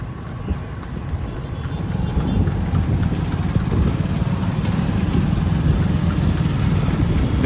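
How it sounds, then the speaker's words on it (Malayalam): Steady rhythmic clip-clop of horse hooves on a road, pulling a cart at a walking pace near the Raxaul–Nepal border crossing, with low traffic rumble in the background. "ഇവിടെ കുതിരവണ്ടിയൊക്കെ ഉണ്ട് കേട്ടോ കുറേ ആൾക്കാർ കുതിരവണ്ടിയിലേക്കാണ് പോകുന്നത്"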